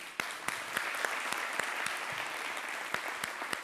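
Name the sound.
audience applause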